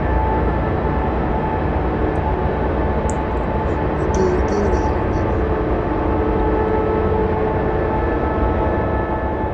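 Train rumbling steadily through a tight tunnel in the Railworks train simulator, a dense continuous low roar with a faint hum and a few brief high squeals, loud and unbroken throughout.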